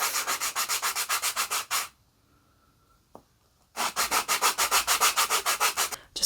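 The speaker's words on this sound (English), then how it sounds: "I'm just going to lightly sand" Light hand sanding of a small fisherman's basket craft piece: quick, rhythmic back-and-forth rasping strokes at close range, in two runs of about a dozen strokes each, split by a short quiet pause with a faint click.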